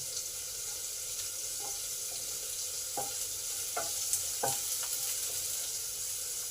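Onions frying with garlic and chili in a pan, a constant hiss of oil underneath while a utensil stirs in a handful of soft clicks and scrapes, close by and without talk.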